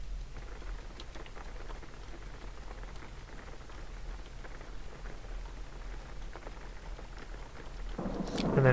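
Steady rain and rolling thunder from the driving game Jalopy, a soft continuous patter with low distant rumbles under it, building to a louder crash at the very end.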